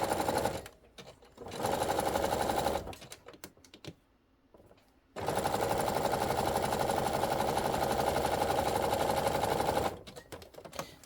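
Sewing machine running a zigzag stitch through fusible fleece for a steering wheel cover, close and rapid whirring in three bursts separated by short pauses.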